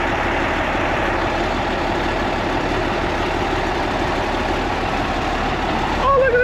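An International Dresser TD25G bulldozer pushes dirt nearby, and its heavy diesel engine rumbles low and steady without a break throughout.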